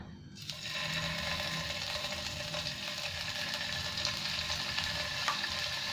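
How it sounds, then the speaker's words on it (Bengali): Half a kilo of paneer pieces frying in hot white oil in a frying pan: a dense, even sizzle starts abruptly after a short quiet moment and continues steadily up close, with no talking. "এবার আমি পনিরগুলো ভেজে নেব"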